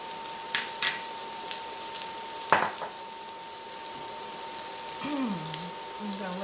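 White mushrooms sizzle in a pan for beef burgundy, a steady close frying hiss with an occasional stir or scrape, and a voice briefly speaking over it near the end.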